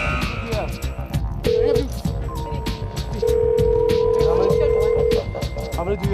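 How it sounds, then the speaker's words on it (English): A telephone call is placed: short electronic tones and dialing beeps are followed by a long sustained ringing tone, heard clearly in the foreground under a busy background hum. "make that very expensive phone call to Webster"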